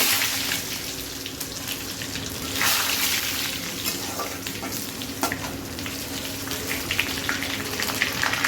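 Panch phoron spices and garlic sizzle steadily in hot oil for an aloo dal with small fish, a loud, even frying hiss with faint stirring clicks, close and continuous without talk.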